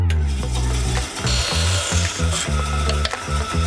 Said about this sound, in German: ich habe auch eine Bandsäge hier neuerdings